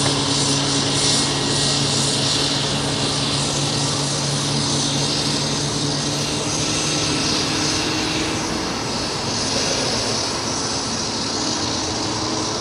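Aircraft approaching to land on runway 01 right at Brisbane Airport, a loud, continuous broadband engine roar holding steady throughout with no voices.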